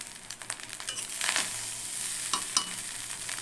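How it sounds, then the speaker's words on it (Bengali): Rice for mixed fried rice is stir-fried in a hot pan, a steady close sizzle with scraping spatula strokes and a few sharp clinks against the pan, no voices. "রাইসটা সামান্য একটু ভাজতে হবে।"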